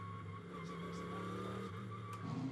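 GT race cars of the British GT Championship accelerate out of Druid's Corner at Oulton Park, engines droning and shifting pitch with a brief tyre squeal, moderately distant and continuous.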